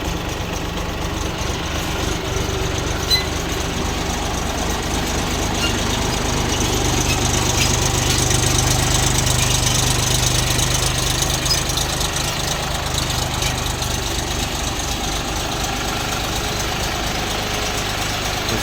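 A Bulat 244 mini tractor engine runs steadily and fairly close for the whole stretch, a constant low rumbling drone with no speech.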